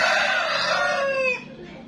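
A rooster crows loud and close beside a chicken coop in a mountain village in Minahasa, a single drawn-out call with clucking hens around it, trailing off into quieter yard sound.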